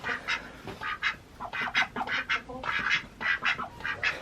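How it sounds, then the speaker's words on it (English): Several ducks quack loudly and close by in a rapid, overlapping chorus of nasal calls that keeps going without pause. "The ducks are pretty happy. I think they're angry because they got shoved in."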